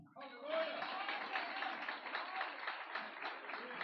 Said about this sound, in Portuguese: Receba com as palmas.